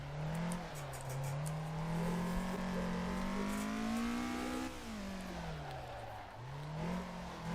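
Car engine revving in the racing game Assetto Corsa, Japanese Pack DLC, a loud, buzzy tone that climbs steadily, drops sharply at a shift, and then climbs again.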